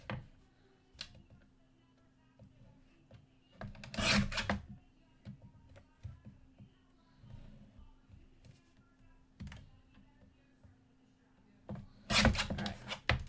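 Paper card stock being trimmed for a handmade thank-you card, with soft rasping cuts in short bursts and two louder, longer slicing strokes standing out above quiet handling noise.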